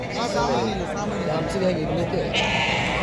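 Sheep bleat repeatedly amid a busy goat and sheep market, with crowd chatter and voices talking close by throughout.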